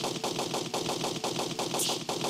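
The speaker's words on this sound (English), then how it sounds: "Let's try and make use of this secondary fire so you can see what it's all about." Secondary fire from a weapon in the first-person shooter video game Blood 2: The Chosen sounds as a rapid, even burst of loud automatic shots. The rattling fire keeps a steady rhythm throughout with no talk over it.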